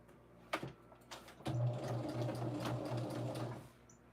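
A sewing machine stitches quilt block seams in a quiet room, beginning with a couple of short clicks before a steady, even whirring run of stitching that lasts about two seconds and then stops.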